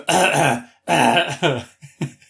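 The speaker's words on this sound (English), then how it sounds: "Big old cough." A loud, close cough followed by a few shorter throaty bursts, harsh and raspy, with no talking.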